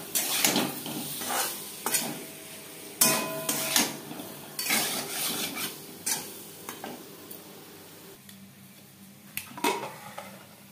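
Boiled potatoes frying in a pan for a mutton curry, with repeated close scraping and stirring strokes over a steady low sizzle that continues throughout without talk.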